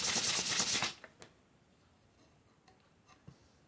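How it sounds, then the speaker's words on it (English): Sandpaper rubs a handmade bansuri flute in a burst of fast, close scratching strokes for about a second, then only a few faint scattered ticks and scrapes follow. "Okay, sandpaper. Sanding time."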